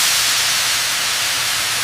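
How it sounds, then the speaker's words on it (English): High-pressure steam hisses steadily as it is injected into a sterilization retort chamber in a papaya processing factory, a loud, continuous broadband rush that holds constant throughout with no talk. "High-pressure steam is injected into the chamber, filling the space with intense heat and pressure."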